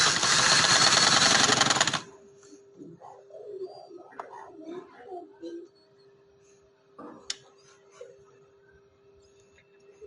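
A sewing machine stitches a V-neck winter frock in one loud, steady burst of about two seconds, then stops while someone speaks nearby.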